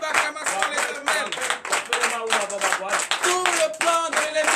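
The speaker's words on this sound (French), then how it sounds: "Donnez une vive acclamation à l'Éternel" Rhythmic clapping from a church congregation acclaiming God during a Sunday worship service in Comè, Benin, loud and close, with sung or chanted voices carrying over the beat.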